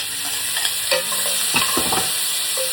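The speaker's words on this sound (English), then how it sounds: "We're gonna let the vegetables cook about a couple of minutes." Chopped vegetables hiss and crackle in a hot pot alongside browned chuck roast, with a steady sizzle broken by several scraping stirs of a spoon, close and moderately loud, no voices.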